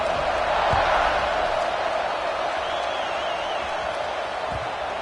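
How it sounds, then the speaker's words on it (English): A stadium crowd buzzes after a score in the College Football 26 video game, a dense, continuous roar of distant voices holding steady with faint thuds underneath. "this crowd is buzzing after that last score"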